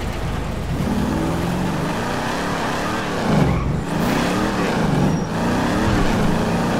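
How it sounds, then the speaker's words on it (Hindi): A modified Mustang GT racing at speed in GTA 5, its engine roaring loud and close with steady high revs and a couple of brief swells as it surges. "देख सकते हो गाड़ी कितनी तेज़ भाग रही है भाई साहब"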